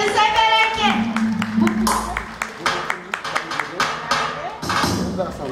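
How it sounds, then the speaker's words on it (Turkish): Wedding guests at a Turkish wedding ceremony clap in a quick, steady run of sharp claps, mixed with voices and the hubbub of the celebration. "Alkış. Bravo."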